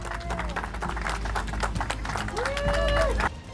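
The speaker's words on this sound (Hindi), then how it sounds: "ये देख लोग तालियां बजाने लगे।" A crowd applauding and cheering after a tightrope walk across a volcano, dense clapping sustained throughout with voices and a whistle-like tone mixed in, cutting off abruptly near the end.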